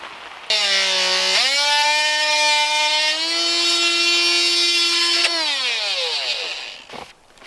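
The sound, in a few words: large drill boring holes in timber frame post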